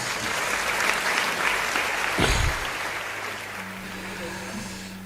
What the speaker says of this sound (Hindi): तालियां वालियां बजा लो मस्ती से, आनंद से।